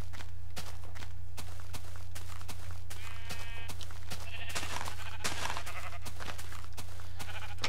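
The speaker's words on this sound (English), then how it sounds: "Some sheep." Minecraft sheep bleat several times in the game, clear wavering cries rising over a regular run of blocky footstep clicks, with a steady low hum underneath.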